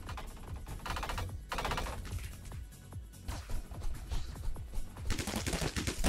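Rapid bursts of gunfire crackle in quick succession amid game sound effects, with sharp automatic volleys and pauses between them.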